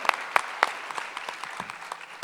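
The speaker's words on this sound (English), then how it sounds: "Another round of applause for that kid, man" Scattered, uneven claps from an audience at a school talent show, a dozen or so sharp hand strikes spread loosely across a couple of seconds as applause winds down, fairly close and with no voices over it.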